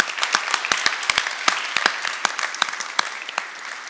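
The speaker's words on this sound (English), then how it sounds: "Please join me in a round of applause." A crowd at a school board meeting applauds steadily, with dense clapping and a few sharper individual claps standing out, sustained for a few seconds.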